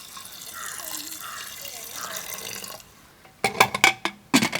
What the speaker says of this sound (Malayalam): ഇനി ഇതൊന്ന് വെന്ത് കിട്ടാനുള്ള വെള്ളം കൂടി നമ്മൾ ഒഴിക്കണ്ടേ